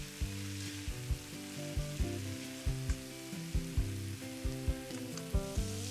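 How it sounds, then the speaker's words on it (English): Greens wilting in a hot pan with salt and pepper, a soft steady sizzle under a background melody, with regular gentle pulses as they are turned. "Just turn them a few times to wilt the greens."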